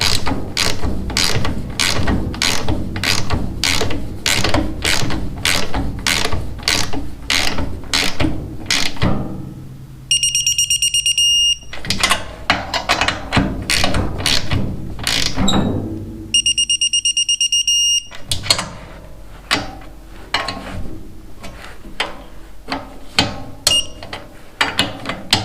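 A ratchet clicks rapidly and rhythmically as bolts on a Troy-Bilt chipper/vac are torqued to 16.5 foot-pounds, close and loud, with two brief high electronic beeps from the torque wrench interrupting the run of clicks.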